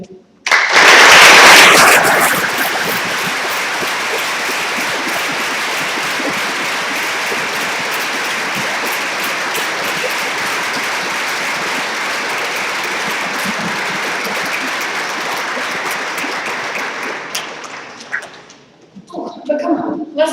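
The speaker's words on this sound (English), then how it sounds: "I would ask you once more to give a big round of applause for the future of the event." Sustained applause from a closing-ceremony audience at the EBEC 2014 engineering competition, a dense steady clatter of many hands that swells in at the start, holds for most of the time and fades out near the end.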